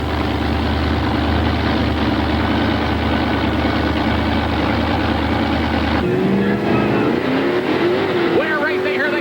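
Monster truck engines rumble loudly at a 1988 event as Bigfoot, a Ford, lines up against Star Monster, a Chevrolet, with a steady idle that gives way to shifting, rising engine tones partway through.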